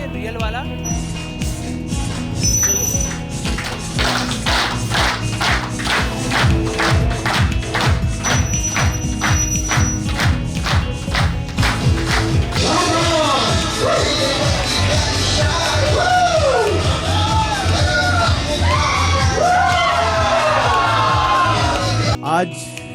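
An audience at a company anniversary event claps in a fast, dense, loud burst, then shifts into cheering and whooping voices that carry on continuously through the rest of the stretch.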